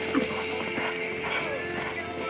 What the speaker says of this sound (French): il est beau, ce poney